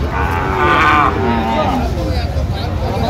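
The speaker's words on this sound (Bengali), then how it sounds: "শাহিওয়ালের বাচ্চা" A Sahiwal calf at a busy cattle market lets out a loud, drawn-out moo close by, rising then tapering, followed by a shorter lowing call against crowd murmur.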